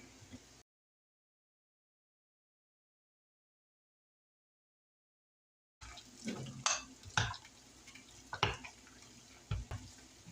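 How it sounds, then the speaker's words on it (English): A spoon scrapes and taps through a ground turkey meat loaf mixture with cracker crumbs and ketchup in a bowl, giving soft irregular stirring clunks after a stretch of silence. "It just takes a little elbow grease, stirring."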